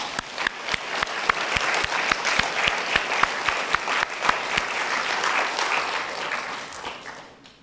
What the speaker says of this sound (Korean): 하나님께 영광의 박수 한번 올려드립니다